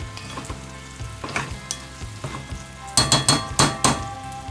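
Garlic sizzles steadily in hot oil while a spoon stirs it, giving rhythmic scrapes and clanks against the pan that grow louder and more rapid toward the end, close up with no talking.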